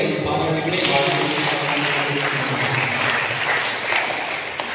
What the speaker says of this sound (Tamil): கைதட்டி அவர்கள் பாராட்டுகளை